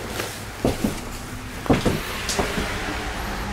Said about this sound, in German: Auch von innen kann man die Türen öffnen.